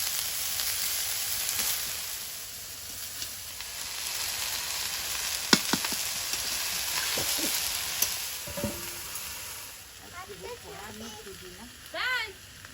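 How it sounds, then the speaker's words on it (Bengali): Drumstick greens fry in hot oil with cumin and spices as they are stirred: a steady, close sizzle with scraping stir strokes and a few sharp clinks, and a faint voice near the end. "শাকটায় মশলা দিয়ে একটু ঘেঁটে দিচ্ছি"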